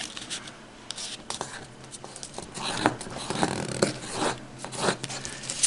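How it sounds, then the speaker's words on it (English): Paper being creased and folded into an origami waterbomb, with soft crinkling, rubbing and sliding strokes that come close and quiet, in a steady series and with no voices. "Turn over like this, right to left, and fold this corner to the top."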